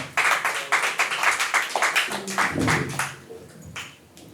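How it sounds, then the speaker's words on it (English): A crowd claps for a performer at a live stage show, with quick rhythmic claps that thin out and fade toward the end, no voices over them. "Give him a round of applause."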